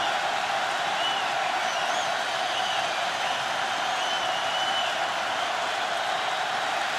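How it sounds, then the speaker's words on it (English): A football stadium crowd at an NFL game, Steelers at Saints in 2010, roars in a steady, dense wall of cheering and applause that holds loud and unbroken throughout. "Crowd at full throat with 8:44 left."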